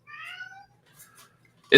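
A house cat waiting at a closed door lets out one clear meow close by, followed by quieter faint sounds and a sudden sharp knock or bump at the end.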